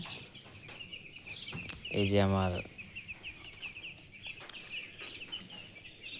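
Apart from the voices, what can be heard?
five-day-old poultry chicks chirping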